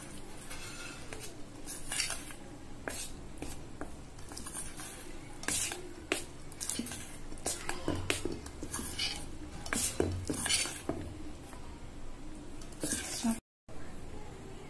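Chocolate cake batter is stirred in a bowl, giving a steady run of scraping, clinking spoon-against-bowl sounds and soft wet squishes, close by, while a person talks over it.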